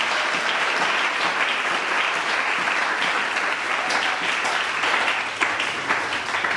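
A church congregation applauds in a dense, sustained burst of clapping that holds steady and fairly loud throughout.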